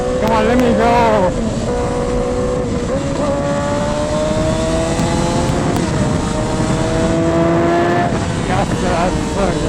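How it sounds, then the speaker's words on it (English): A Yamaha R6 sport motorcycle engine revs high and loud, rising in pitch through gears, then drops with several downshift blips, a close, continuous raspy exhaust whine with wind noise. "revs up nicely. And it sounds absolutely amazing. Let's get some downshifts going."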